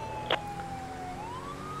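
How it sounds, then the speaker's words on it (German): Police siren from the video game GTA V wails steadily over engine and road noise, its pitch holding and then rising slowly, with one brief click near the start. "hier fahren wir erstmal mit Blaulicht und Sirene schnell lang"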